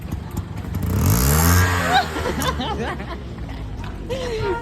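A Suzuki Hayabusa motorcycle's exhaust gives one short, loud rev that swells and falls away, with several people talking and chattering around it throughout.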